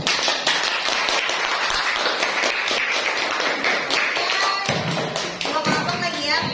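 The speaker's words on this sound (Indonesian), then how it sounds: "berikan tepuk tangan dulu" A classroom of students claps for a student group after its performance, a dense steady burst of applause that carries on for several seconds and thins slightly toward the end.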